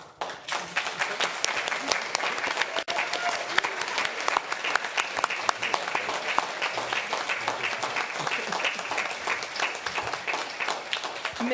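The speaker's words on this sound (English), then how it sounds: "thank you for clapping for me" An audience at a school board meeting gives a long round of applause, many hands clapping in a dense, lively stream with a few sharper individual claps standing out, steady from start to finish with faint murmuring underneath.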